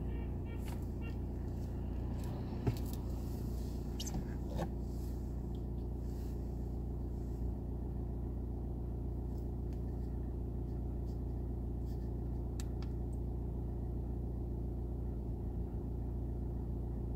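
A car drives along a rural road in the West of Ireland between Aghamore and Swinford, giving a steady, low engine and road rumble from inside the car with little change and no talking.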